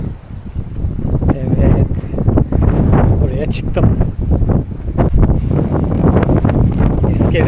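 Strong gusts of wind buffet the microphone on a seaside pier in Urla, İzmir, rumbling loudly while a person speaks briefly.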